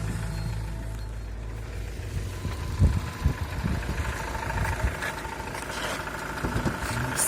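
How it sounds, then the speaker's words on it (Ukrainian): An Iveco Daily 35 van's engine idles steadily nearby, a low continuous rumble with a few louder knocks and bumps partway through. "мотор зараз працює"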